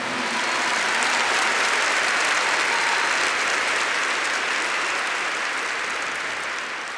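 A church congregation claps for the Lord, a dense, loud, sustained round of applause from a large crowd that holds steady for the whole stretch and tapers only slightly near the end.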